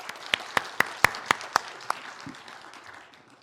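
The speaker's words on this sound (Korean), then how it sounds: "박수로 맞이해 주세요." A small congregation at a Sunday church service claps to welcome a young speaker, about seven distinct claps close by in a sparse, brief patter that fades out.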